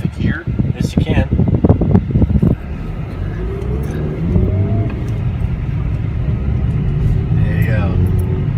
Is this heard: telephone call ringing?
no